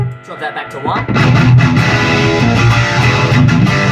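Distorted high-gain guitar riffing through an MI Audio Megalith Gamma 80W amp head with its EQ switch on 1, starting with sparse picked notes before settling into steady, loud chugging rhythm.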